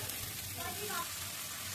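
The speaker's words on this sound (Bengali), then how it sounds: "লাল লাল করে তারপরে সসিংদাগুলো ছেড়ে দিচ্ছি" Snake gourd tipped into onions fried until reddish-brown in a pan, giving a brief, steady close sizzle with a faint voice briefly in the middle.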